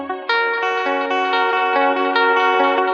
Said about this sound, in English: When you stretch a lot of tape delays, you tend to get artifacts in that modulation, and I can't seem to hear any in this.